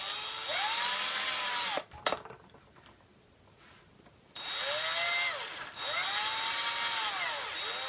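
A small drill whines at close range as it bores a hole during a MagSafe charger repair, running in rising and falling bursts with a pause and clicks midway.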